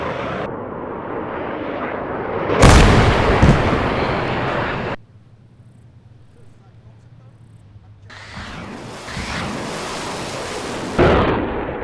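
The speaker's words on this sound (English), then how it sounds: "the third 13D missile hits it with its shrapnel when its proximity fuse explodes" Missile proximity-fuse blast bursting beside a U-2 spy plane in the Arma 3 combat game, a loud sudden crash over steady jet roar, then a quieter low hum before the roaring engine noise returns loud.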